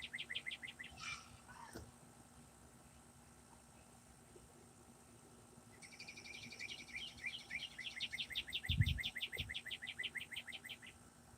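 A bird calls from a tree, giving a rapid run of high repeated notes. An earlier brief call comes first, all faint against outdoor background hiss.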